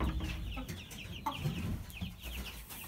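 Young chickens on a farm plot making quiet, busy clucks and cheeps, several small birds calling repeatedly at a distance under steady background noise.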